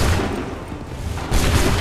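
Musket volley in Assassin's Creed III Remastered, a dense burst of booming shots that swells, dips and then swells again, loud and close with no speech.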